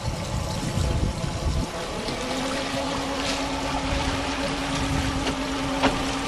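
Twin engines of a 30-foot Wellcraft Scarab boat idling on the water, a steady low rumble with a faint tonal hum joining as one engine shifts into forward, no voices.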